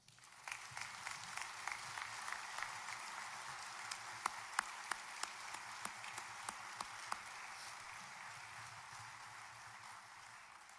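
Audience applause honoring Missouri National Guard heroes, a steady sustained round of clapping from a crowd, fairly distant and even, with a few sharper claps standing out.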